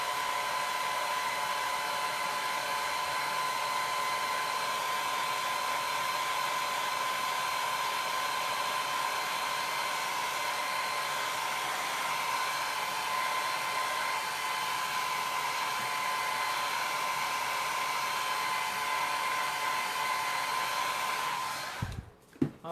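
Hair dryer blowing steadily up close as chalk paint dries on a board, a constant whirring roar that runs unbroken for over twenty seconds and then cuts off with a click and a brief handling clatter.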